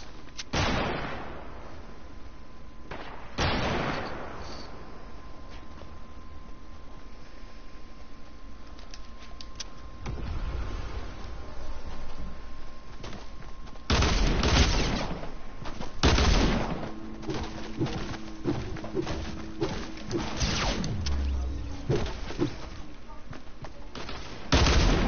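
Dual pistols firing in Fortnite, bursts of sharp shots clustered in the second half and scattered earlier, mixed with other game noise at moderate level.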